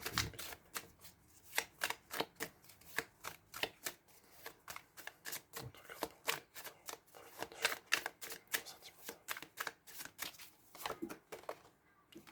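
Tarot cards are shuffled by hand in a rapid series of crisp riffling bursts, close and fairly quiet, repeating irregularly for the whole stretch with no talk.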